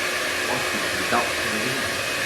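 A THz health blower device blows a steady stream of air at close range, a continuous whooshing hiss that holds even throughout, with a brief slight swell near the middle.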